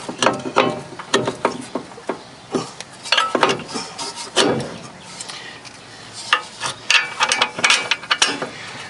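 Ratchet clicking in quick repeated bursts while tightening a bolt on the front strut of a 2000 Toyota Corolla, close and loud with brief pauses between runs of pawl clicks.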